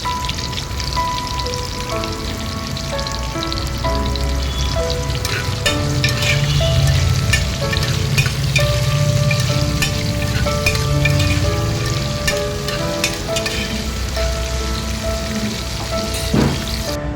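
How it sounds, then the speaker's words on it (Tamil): A large sliced onion sautés in a pan toward golden for mushroom biryani, a strong, continuous frying crackle like heavy rain, with steady background music underneath. "ஒரு பெரிய வெங்காயத்தை நல்லா ஸ்லைஸாக கட் பண்ணி சேர்த்து நல்லா பொன் முறுவல் ஆகிற வரைக்கும் வதக்கிடலாம்"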